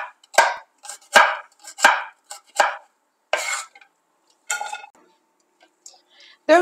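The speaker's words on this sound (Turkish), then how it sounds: "Onların da üzerine vuruyorum ve iri iri doğruyorum." A knife coarsely chops four smashed garlic cloves on a board, giving a series of sharp, uneven strikes in quick bursts with short pauses between them, close and fairly loud.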